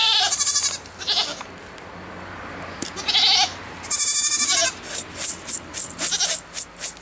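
Dwarf goats bleating repeatedly, several loud close calls at first, then a quick run of shorter bleats toward the end over faint background noise.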